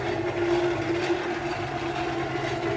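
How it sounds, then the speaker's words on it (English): A hand-crank forge blower whirs steadily nearby, giving a continuous airy rumble with a faint humming whine and no pauses. "Got the blower going, hand crank blower."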